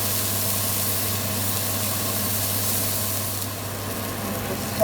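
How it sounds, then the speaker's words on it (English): A leg of lamb sears on a hot griddle with a loud, steady sizzling hiss that holds evenly throughout, close up and without talk. "I'm using this griddle. So I'm just going to seal it on all sides"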